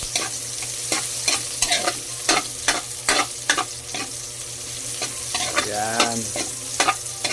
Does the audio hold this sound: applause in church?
no